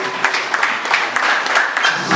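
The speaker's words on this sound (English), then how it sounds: "give her a round of applause." An audience at an export business clinic held in a hotel claps together in a dense, steady round of applause that fills the short moment.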